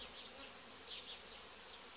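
Honeybees in a healthy hive colony buzzing softly and continuously close by, with the hum rising and falling in brief swells.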